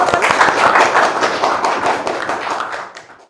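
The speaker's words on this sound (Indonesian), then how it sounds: "Kita tepuk tangan bersama-sama." An audience at a podcast event claps together in a burst of dense applause that fades out over about three seconds.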